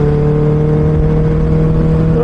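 A vehicle comes along the road with a steady, loud engine drone that holds even and close throughout the short stretch, with a constant low hum and no clear rise or fade.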